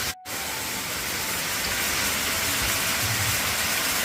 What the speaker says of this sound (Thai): นี่นะคะน้ำตกนะคะที่ภูพาเด่นนะค